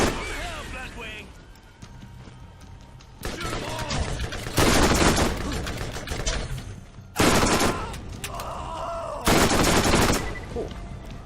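Bursts of gunfire while shooting enemies in the video game Borderlands, loud broadband volleys coming in several separate bursts with quieter gaps between them, speech heard at moments.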